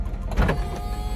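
Electric convertible roof motor of a Chevy SSR with a 6.0L V8 whirs close by in a short, steady burst that swells briefly and settles.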